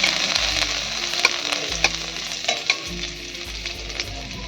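A spoonful of chopped garlic sizzles steadily in hot oil in a pan. The frying is loud and close, with a constant crackle and occasional sharper pops, and no voices are heard.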